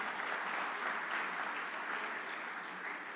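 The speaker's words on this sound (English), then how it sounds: "So a big round of applause for MacAir," Sustained audience applause fills a conference hall, a dense steady wash of many hands clapping at even loudness with no talk over it.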